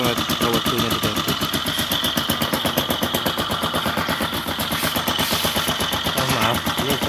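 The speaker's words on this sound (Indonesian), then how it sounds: "ini suaranya sumbernya dari mesin" A motorcycle engine runs close by with a rapid, steady mechanical chatter and a slightly rough, uneven idle.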